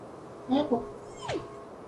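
A house cat gives a short meow and then a brief rising cry a moment later, close and fairly soft, with a faint voice nearby.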